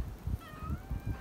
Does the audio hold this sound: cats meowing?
yes